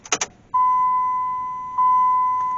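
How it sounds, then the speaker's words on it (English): A jingle of keys, then a long steady vehicle door warning buzzer on a Dodge diesel truck that sounds, pauses briefly, and sounds again, loud and close. "Stupid door buzzers."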